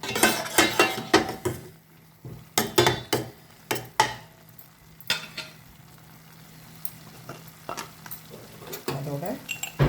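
Butter chicken cooking: chicken pieces frying in oil with chili powder and spices, stirred with clattering spoon scrapes in bursts over a soft sizzle, quieter in the middle stretch.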